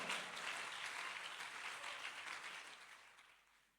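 A church congregation bursts into sustained applause and cheering during a sermon, a broad wash of clapping from many people that holds steady and then fades out toward the end.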